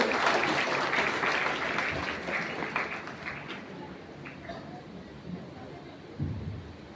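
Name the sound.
audience applause at a stage event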